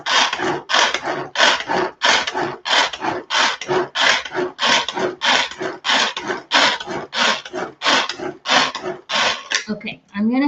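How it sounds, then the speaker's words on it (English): Butter being scraped off the side of a mixing bowl, a rapid regular series of rasping strokes, loud and close, about twenty scrapes in a row. "I'm going to scrape off the butter from the side."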